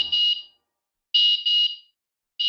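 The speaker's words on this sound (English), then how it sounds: "Or you can activate the alarm manually." Airbolt luggage tracker sounding its anti-theft alarm, loud high-pitched electronic beeps in short bursts, one, then a close pair, then another starting, with silence between and no talk.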